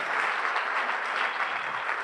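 Congregation applauding during a church service, a steady, dense wash of clapping that holds evenly throughout the short span with no voices over it.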